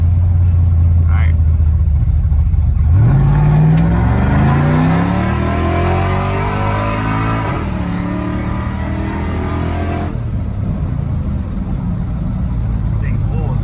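A lowered single-cab pickup truck on 24-inch wheels accelerates hard in drive, its engine note climbing steadily in pitch over several seconds, loud and close, with a voice speaking over it.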